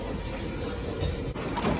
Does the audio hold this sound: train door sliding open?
yes